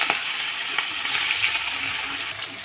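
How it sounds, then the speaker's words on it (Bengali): Rupchanda fish pieces frying in hot oil, laid in one by one for a Bitter-gourd and potato Rupchanda recipe, giving a steady close, bright sizzle and crackle with a few small taps throughout, no voices. "এবার তেলের মধ্যে আমি এক এক করে মাছগুলো ছেড়ে দেব আমি এইভাবেই মাছগুলো এক এক করে ভেজে নেব"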